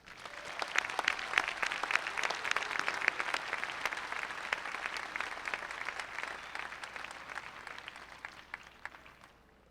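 Applause from the audience at a university honors convocation commencement ceremony, a sustained bright patter of many hands clapping at a moderate distance, steady throughout and tapering slightly at the end.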